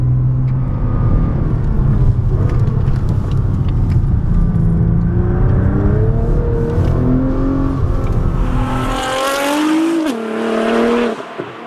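Loud car engine with a 90 mm exhaust revving close by, pitch climbing repeatedly through high-rpm sweeps with a raspy exhaust note, then dropping off sharply near the end.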